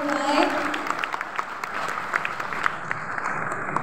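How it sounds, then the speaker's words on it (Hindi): Audience applause at an event honoring Kapil Dev, with sustained clapping from a crowd that continues steadily and thins toward the end. "जोरदार ताली everyone"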